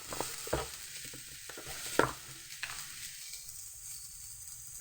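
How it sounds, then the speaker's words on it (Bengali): Broad beans (bimsuti) and potatoes fry in a pan with a quiet sizzle, broken by a few sharp scraping stirs. The sound is fairly faint and close. "ভালোভাবে ভেজে নেব বিমসুটি আর আলুটাকে।"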